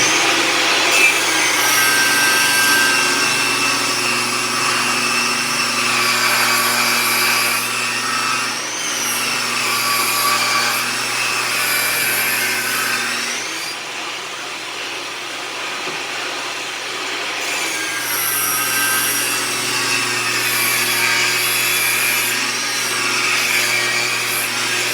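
A power saw cuts wood for a kitchen cabinet, a steady loud whining drone that runs continuously with slight dips in pitch as the blade works through the piece.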